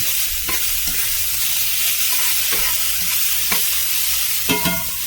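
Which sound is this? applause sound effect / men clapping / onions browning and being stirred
onions browning and being stirred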